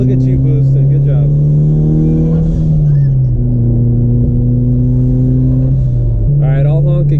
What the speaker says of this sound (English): Yeah, your car is insanely loud.